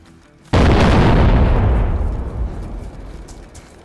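Plastic explosives blow through a base wall in DayZ: one sudden, loud blast with a deep booming body that rolls off into a long, fading rumble, with no voices.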